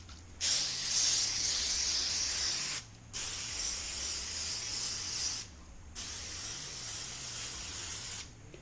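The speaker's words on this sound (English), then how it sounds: "you want to lightly spray the molds" Three long hissing bursts of cooking spray onto candy molds, each a couple of seconds, separated by short pauses, close and fairly loud, with no talking.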